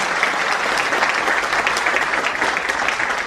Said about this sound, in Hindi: एक बार जोरदार तालियां उसके लिए बजाइए